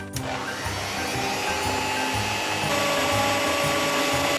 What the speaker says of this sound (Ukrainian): Збиваємо до білої пишної маси.